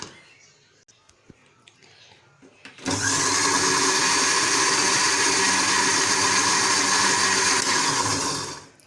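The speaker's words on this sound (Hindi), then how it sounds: "अब ये दोनों चीज़ें मैं इसमें डालती हूँ और अच्छी तरह से इन दोनों को ग्राइंड कर लेती हूँ।" A blender jug grinds ingredients for spiced Lahori chickpeas, starting after a few quiet seconds as a loud, steady motor whir that holds for about six seconds and then winds down.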